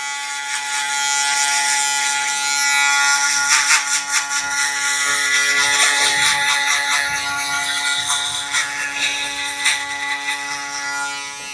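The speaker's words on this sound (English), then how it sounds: "I go in with the shaver." An electric shaver buzzes steadily and close up while cutting hair during a taper fade, its hum fluttering as it moves over the head.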